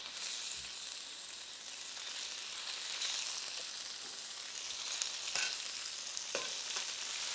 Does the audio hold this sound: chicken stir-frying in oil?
yes